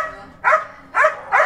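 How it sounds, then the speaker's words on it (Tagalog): A dog in Baguio barks three times in quick, evenly spaced bursts, loud and near, with no speech. "Ingay ng aso."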